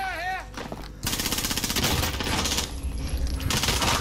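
Rapid automatic gunfire in the video game Call of Duty Warzone, loud bursts of shots rattling close by, heard alone without talk.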